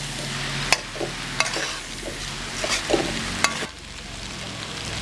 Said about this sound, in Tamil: இதில் சேர்த்து நல்லா மிக்ஸ் பண்ணிக்கலாம்.